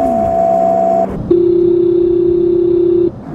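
Phone line tones on a call: a steady dial-type tone with a lower hum for about a second, a brief break, then a loud, sustained single tone holding for around two seconds before cutting off, with no talking.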